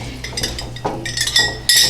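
Glass canning jars clink and knock together as they are set out for pressure canning baked beans, several bright close clatters and taps in quick irregular succession.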